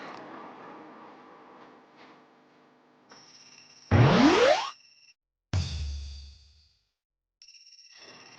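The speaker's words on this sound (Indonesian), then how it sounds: "gue nggak mungkin angkat telepon Vino di depan lo, Dirli" Mobile phone ringtone ringing in a dramatic TV scene, a few electronic tones with sweeping bursts and pauses, loud and close with no speech.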